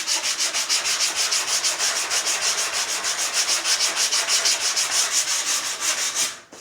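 Sanding a vintage Gibson Les Paul Custom guitar body with a round orbital sanding pad, a close, fast rhythmic scraping of quick regular strokes that continues steadily before stopping at the end, with no talking.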